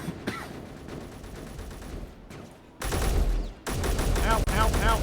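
Grenade launcher and gunfire in the game Space Engineers, with loud bursts of rapid shots and explosions crowding the second half, over a rumbling background; a voice speaks briefly early on.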